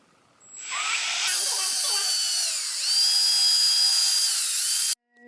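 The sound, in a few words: cordless drill running until its battery dies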